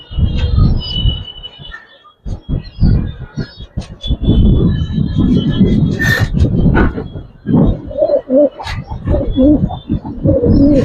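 Giribaz and coloured pigeons on a pigeon farm coo in low, throaty bursts at close range over several seconds, mixed with rustling, handling noise and sharp clicks.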